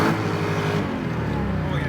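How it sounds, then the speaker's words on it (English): Hellcat-engined Mazda Miata doing a second-gear burnout, a loud, sustained engine roar with a steady rasping drone throughout, close by, with voices talking over it. "That's second gear burnouts."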